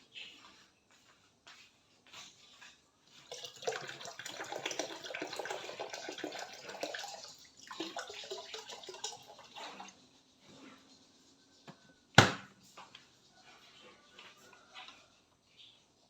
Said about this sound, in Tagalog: Dadagdagan ko pa ng tubig ang aming thermos para at least palaging puno.